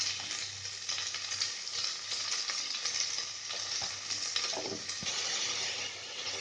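Vegetables fry in oil for a spicy South Indian vegetable pulao, a steady close sizzle with occasional stirring clatter, no voices.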